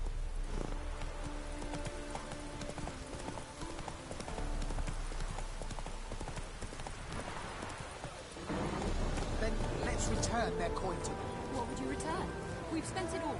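Hooves of the horse Roach clip-clop steadily in The Witcher 3: Heart of Stone, a continuous rhythmic trot under game ambience that turns louder and rougher toward the end, with voices talking over it.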